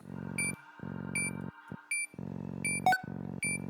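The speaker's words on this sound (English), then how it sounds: "Like that alarm." A pulsing electronic alarm in the video game Replaced repeats in steady bursts topped by sharp high beeps, with brief pauses between pulses and no speech.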